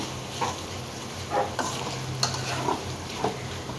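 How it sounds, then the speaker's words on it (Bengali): Dried fish (shutki) from Cox's Bazar being stirred and fried in a pan: a steady close sizzle, broken by a few sharp scrapes and clinks of the spoon against the pan, with no talking. "শুটকি রান্না হয়ে গেছে"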